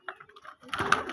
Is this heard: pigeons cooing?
yes